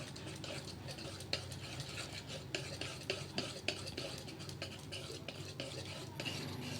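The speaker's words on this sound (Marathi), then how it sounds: "आता चांगलं मिक्स करून घेऊ हे हे चांगलं मिक्स झालं तरच आपला ढोकळा चांगला होणार आहे" Besan dhokla batter with Eno is stirred briskly in a bowl, a quiet, close, steady scraping and swishing with repeated spoon knocks against the side.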